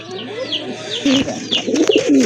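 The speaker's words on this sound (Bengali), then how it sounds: "এটা হচ্ছে আপনার কাশ্মীরি রেসার দেখার মতো এক জোড়া কবুতর" A pair of Kashmiri racer pigeons coo close by in soft, repeated throaty calls, overlapping with light rustling and faint background noise.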